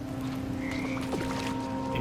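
Toads croaking in the game What Remains of Edith Finch, a few low croaks and warbling calls over a steady ambient hum, fairly faint and without talk.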